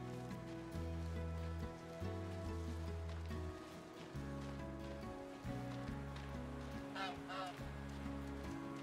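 A goose in a farming video game gives a few short honks late on, faint beneath looping game music with a steady plucked bass pattern.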